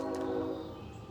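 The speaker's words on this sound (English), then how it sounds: "Train is part of our dreaming, apparently." A train horn sounds from a distance while someone is out in a forest, a brief, moderately loud sustained tone that fades after about half a second into low rumbling background.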